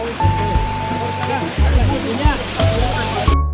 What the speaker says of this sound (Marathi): बघा वरून पाणी पडतंय धबधबा